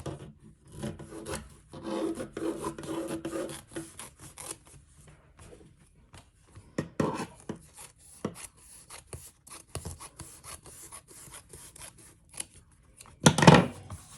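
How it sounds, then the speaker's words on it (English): Vinyl being cut for quilting, with scissor snips and rasping rubs of the material; scattered, fairly close strokes with a sharper burst of cutting near the end. "I'm just going to cut it"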